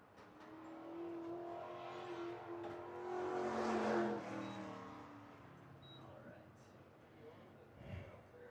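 A Legends race car lapping Hythe Motor Speedway, its engine swelling as it nears and passes, then fading into the distance, heard under the steady talk of a track announcer.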